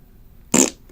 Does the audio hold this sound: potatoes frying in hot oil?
no